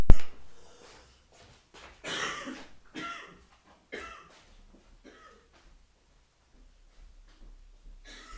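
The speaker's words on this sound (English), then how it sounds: "this cough's not giving up" A woman coughing several times in short, spaced bursts, fairly near, with quiet pauses between fits and no talking.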